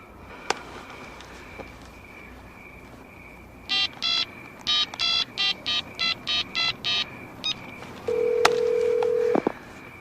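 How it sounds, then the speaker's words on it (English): A telephone keypad being dialed, a quick run of about a dozen close, even tone beeps, followed by a steady ringing tone, with faint room background throughout. "Dial him. Come on. Dial him up."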